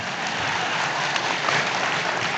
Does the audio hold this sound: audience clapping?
yes